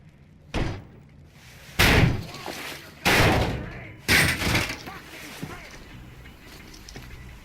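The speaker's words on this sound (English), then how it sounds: "The door's giving. Let's give it a shove" A door in the video game Metro Exodus is shoved open in a series of heavy thuds and slams, four loud bangs spaced about a second apart, some with a scraping tail.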